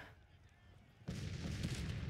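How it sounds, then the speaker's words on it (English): A cannon in Grand Tactician: The Civil War booms once after a quiet stretch, and a rumbling roar lingers through the rest of the moment. "the cannons should keep on engaging away"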